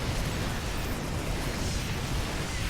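Siege tanks fire in a StarCraft match, heard as a dense, continuous roar of explosions and rumbling battle noise that stays loud and steady throughout, with no voices.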